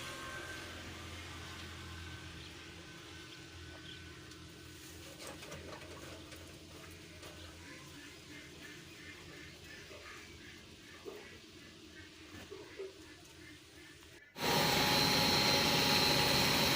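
A mini solar atta chakki flour mill with a 15 hp motor on a VFD inverter runs with grain feeding in, giving a steady mechanical hum and rattle that jumps abruptly to a much louder, harsher roar near the end.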